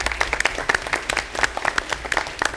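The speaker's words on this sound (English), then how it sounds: "Let's give them a round of applause." Applause from an audience at a school board of education meeting, a dense spread of many hands clapping at moderate volume with no voices over it.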